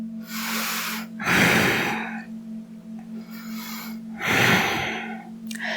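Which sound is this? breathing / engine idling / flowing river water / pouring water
breathing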